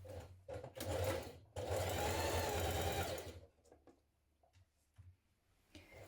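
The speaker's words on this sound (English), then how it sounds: "we're going to stitch this in place with a 1 centimetre seam allowance" Sewing machine stitching a pocket facing with a 1 cm seam allowance for dungarees: short stop-start bursts, then one sustained run of about two seconds, loud and close, followed by quiet handling noises.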